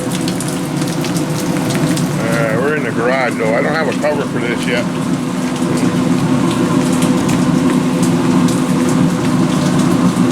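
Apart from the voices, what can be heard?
rain pouring from a gutter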